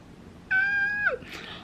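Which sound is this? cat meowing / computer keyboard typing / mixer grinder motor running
cat meowing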